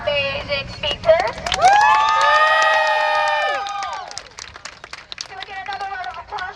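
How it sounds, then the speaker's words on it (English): A crowd at a queer youth march in Atlanta bursts into loud cheering and whoops, rising to a sustained roar of shouting and applause before tapering off into scattered voices and clapping. "Can I round of applause for our amazing speakers?"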